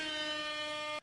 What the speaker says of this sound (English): You guys could hear the air horns.